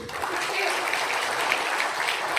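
A seated audience at a Kargil Vijay Diwas commemoration claps in a steady, dense, loud round of applause with no pauses.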